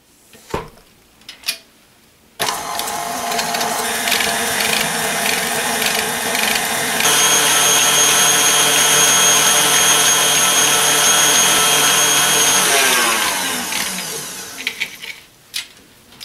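An electric mixer beats softened butter, sugar and oil in a bowl, a steady loud whirring and clattering that runs unbroken for about eleven seconds, shifts speed partway through, then stops, with faint clicks before and after.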